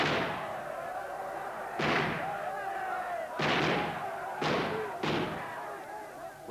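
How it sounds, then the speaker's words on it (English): Gunshots fired from inside the garrisoned Westgate Hotel: five loud, sharp cracks at uneven intervals, each trailing off in a short echoing decay. "From within, shots rang out."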